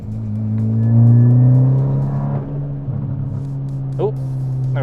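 Exhaust burble from a MK6 GTI fitted with a CTS turbo downpipe, a steady engine drone heard from inside the car that swells, eases off and crackles briefly near the end.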